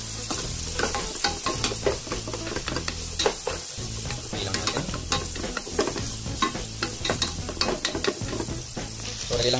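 Carrots for lumpiang gulay stir-fry in a hot pan, sizzling loudly and steadily up close while a utensil scrapes and stirs in a quick, irregular rhythm throughout.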